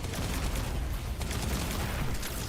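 Continuous game gunfire in Destiny 2 aimed at a wyvern, a dense rattling fusillade of shots held at an even level the whole time, no talk.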